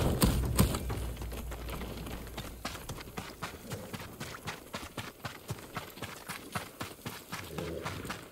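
Samurai horse hooves clip-clop in a steady, even rhythm on hard ground, close by and moderately loud, with faint game ambience behind, in Ghost of Tsushima.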